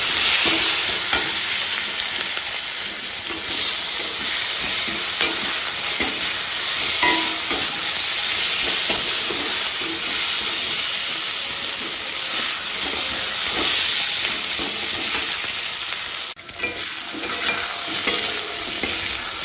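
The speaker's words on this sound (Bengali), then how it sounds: "আলু টমেটো লঙ্কা সমস্ত কিছু ভাজা হয়ে গেছে" Potatoes, tomato and chilli frying in a pan produce a loud, dense, unbroken sizzle and hiss, close and steady throughout, with faint stirring scrapes and a short dip near the end.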